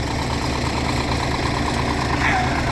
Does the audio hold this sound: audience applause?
no